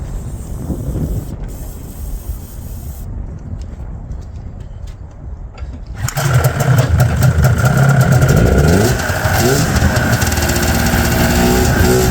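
A 1997 Ski-Doo MXZ 670 snowmobile running on old gas, starting with a rough sputtering idle that jumps to a louder, steady roar with a pulsing engine note after a few seconds, close and without voices.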